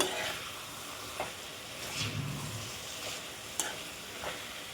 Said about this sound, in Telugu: ఇలా పప్పు వేసుకున్న తర్వాత ఒకసారి కలుపుకోవాలండి